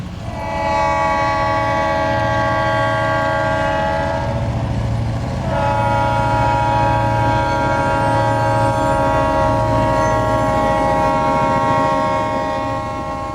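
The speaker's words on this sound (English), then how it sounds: "these are long and heavy mainline trains, some in excess of 100 cars" Long, heavy mainline freight train of over 100 cars hauled by Geep and Cadillac diesel locomotives, with a steady loud rumble of engines and rolling cars and a sustained multi-chime horn blowing twice, a brief gap between the blasts.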